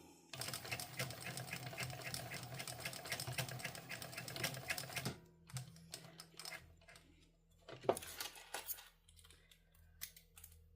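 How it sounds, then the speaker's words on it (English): A sewing machine runs at a fast, steady clip stitching a Pebble Sling Bag for about five seconds, then stops, leaving sparse clicks and small handling taps of fabric and parts close by. "Let's sew."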